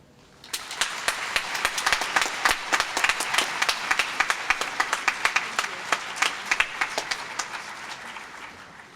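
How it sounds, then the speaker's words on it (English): Audience applause at a university opening convocation, sustained clapping from a large crowd in a hall, steady and full for several seconds with sharp individual claps standing out before it tapers off. "Let's give another round of applause to Dean Zia for a great keynote."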